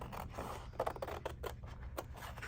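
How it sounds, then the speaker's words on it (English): Scissors snip through paper wallpaper in a series of quiet, close, crisp cuts that come at an uneven pace, with no talking. "and I'm going to cut out my wallpaper."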